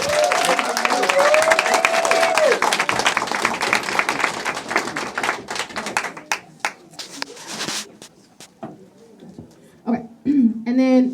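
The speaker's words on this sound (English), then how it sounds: "And you guys give you a round of applause" Graduation audience at a media school breaks into loud, dense clapping that thins into scattered claps after about six seconds, with voices talking over the tail end.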